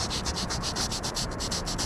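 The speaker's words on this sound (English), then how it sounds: "sanding that smooth on that body line" Sandpaper rubbing primer smooth along a hard body line on a car panel, finished with 600 grit; a steady close rasp in quick even back-and-forth strokes, about a dozen in two seconds, with no talk.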